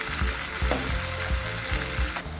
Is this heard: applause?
no